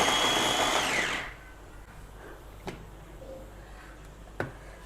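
An electric vegetable chopper whirs loudly for about a second in a home kitchen, then cuts out, leaving quiet room tone with a couple of faint clicks.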